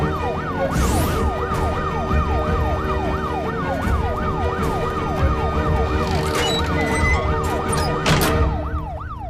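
A wailing ambulance siren sweeps up and down in a fast, steady cycle, loud and close, over rumbling road traffic.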